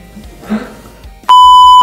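A mobile phone left nearby lets out a loud, steady electronic beep lasting about half a second near the end, after a stretch of quiet room noise.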